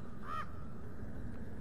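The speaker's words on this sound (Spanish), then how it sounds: "el puto cuervo." A single crow caw rings out once in The Last of Us Left Behind, brief and fairly clear over a low, steady game ambience, with nothing else following.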